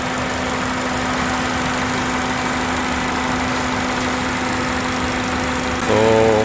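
A rebuilt Ford Fiesta engine idles close by with a loud, even, steady hum and drone throughout, its pitch shifting slightly near the end.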